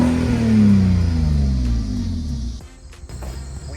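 A 2004 BMW 330i E46 with the ZHP package and stock exhaust apart from the removed muffler revs up loudly, then the engine note falls away as it settles.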